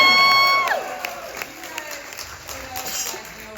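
A convention crowd at Fan Expo Chicago claps and cheers, a loud, dense wash of applause and whoops that swells after a brief sustained tone and continues under a voice.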